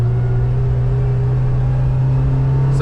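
A 2024 Kawasaki Ridge XR side-by-side engine runs with a loud, steady low drone and a strong hum, close and continuous with no talking.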